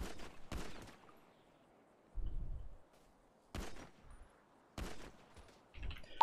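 Sharp gunshots in a GTA roleplay video game crack out in separate bursts: two quick shots, a low thud, then more isolated shots spaced a second or so apart, loud against near silence.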